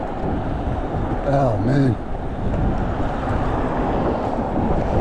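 Steady wind buffets the microphone on a cold e-bike ride through Hawthorne, New Jersey, a continuous low rumble running the whole time, with a brief spoken exclamation near the start.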